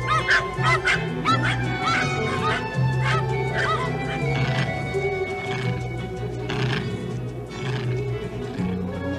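Several dogs bark and yelp over a busy, noisy outdoor scene, the barks coming in repeated bursts throughout, fairly close and loud, with rough animal cries mixed in.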